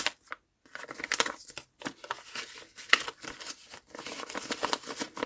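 Crisp plastic crinkling in irregular bursts, close to the microphone, with brief pauses between handlings.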